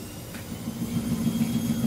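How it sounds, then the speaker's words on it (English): A loud washing machine runs with a steady, low droning rumble that continues without a break and builds slightly toward the end, heard alone with no talking. "that washer's a bit loud"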